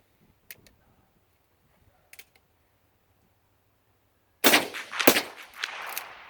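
An old used Ithaca saddle gun in .22 Magnum fires outdoors at steel targets: a few faint ticks and clicks, then one loud, close report followed by a second shot and ringing echo.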